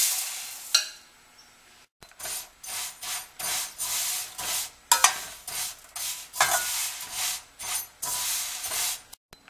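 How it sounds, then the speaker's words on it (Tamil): Dry, scratchy rustling and scraping repeats in steady strokes as vermicelli is roasted and stirred in a hot, empty pan, with a few sharper clacks. "வெறும் வானலில் இந்த சேமியா பண்ணும்போது"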